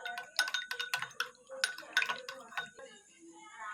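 A spoon stirs cornflour and water together in a bowl, giving a quick run of bright, close clinks and scrapes against the bowl's sides with brief pauses in between.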